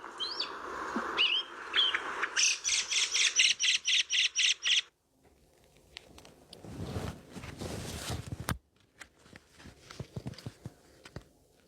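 Lively birdsong of a thrush: rapid repeated phrases and chirps, loud and close at first, then scattered quieter calls over soft rustling.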